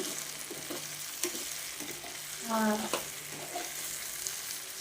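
Potato curry fries quietly in a pan, a soft steady sizzle with faint scraping as it is stirred, plus a brief tonal clink midway; low in level and close, no speech.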